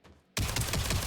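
Sustained burst of automatic gunfire in the co-op loot shooter Jump Ship, starting abruptly after a quiet moment and continuing as a dense, loud, rapid rattle to the end.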